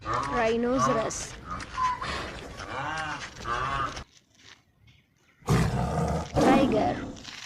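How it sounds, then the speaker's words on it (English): A tiger roars in loud, growling bursts up close, a brief quiet gap breaking the calls before another strong roar rises near the end. "tiger,"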